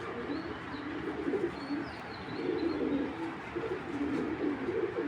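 Racing pigeons coo softly and steadily in a loft, their low throaty calls overlapping continuously with faint higher chirps in the background.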